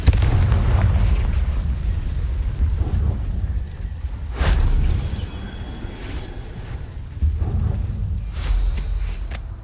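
Explosive Confringo spell blasts in the video game Hogwarts Legacy, a few booming bursts over a continuous low game rumble and ambient score, with sharp impacts near 4.5 and 8.5 seconds.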